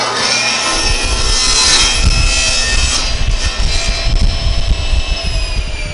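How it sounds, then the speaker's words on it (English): Table saw cutting wood on a crosscut sled, a loud steady motor whine with the blade chewing through the board for several seconds, dense and continuous throughout. "We're going to turn on the saw."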